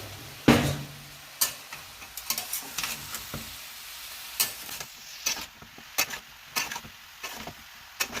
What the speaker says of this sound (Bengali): এটা দিয়ে ভালো করে রান্নাটাকে একটু কষাবো।